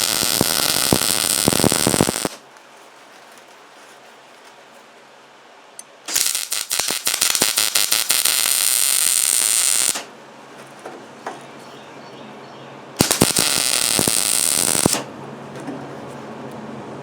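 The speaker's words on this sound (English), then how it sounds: "Let me get this retainer welded on." Welding a retainer onto an electric fence wire winder: three loud bursts of broadband crackle and buzz, roughly two, four and two seconds long, separated by quiet gaps with a low hum.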